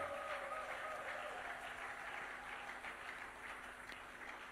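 A church congregation in Kinshasa applauds the Lord, sustained crowd clapping that holds steady throughout and slowly eases off, heard at a moderate distance with a faint tone underneath.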